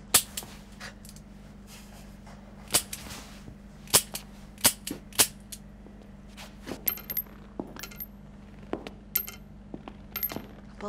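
Sharp gunshots in a thriller film scene, a scattered series of loud cracks spread unevenly over several seconds against a quiet background hum; no speech.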